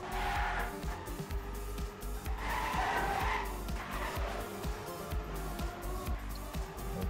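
Race cars drifting in a racing video game, with repeated tire squeal and skidding swells over steady engine drone, several loud screeching bursts in the first half before quieter engine noise.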